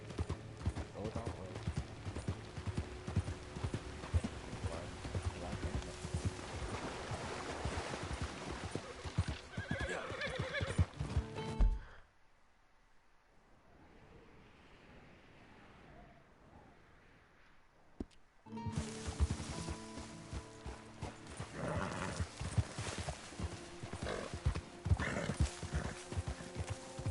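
Rhythmic hoofbeats of a galloping horse with occasional neighs over game music and sound effects in Red Dead Redemption 2, dropping to near silence midway before resuming.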